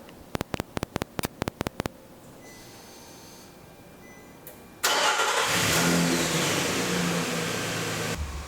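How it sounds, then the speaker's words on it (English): Nissan Frontier pickup started with a Viper remote start: a series of sharp rapid chirps and clicks first, then a quiet pause with faint whirring, then the engine cranks and catches into a loud, steady close idle. "And now we're going to remote start it."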